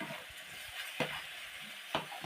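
Egg kabab mixture is stirred and mixed in a pan, soft faint scraping strokes with two sharper spoon clinks, close and without talk.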